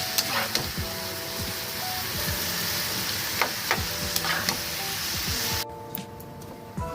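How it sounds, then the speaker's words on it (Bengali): Vegetable chow mein noodles being tossed and stirred in a hot pan, with a steady close sizzle of frying and repeated scraping clatters of the spatula against the pan, the sizzle thinning out near the end. "এবার আমি এতে চাউমিনগুলো মিশিয়ে দেব। এবার ভালো করে এটা নাড়ব।"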